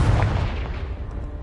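A Confringo fire spell blasts in Hogwarts Legacy, a single loud, deep explosive boom that hits at once and then rumbles and fades over a second or so, heard alone.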